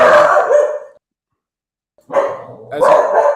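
A dog barks loudly and close by in a home, a burst of barking, then a short silence, then two more rough barks.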